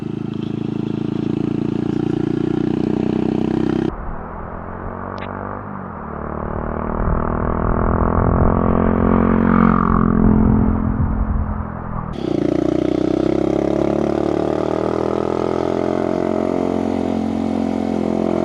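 A Honda 90 motorcycle engine labours up a steep hill road in South Scotland in first gear, a loud, strained, steady drone that briefly eases in the middle before pulling hard again.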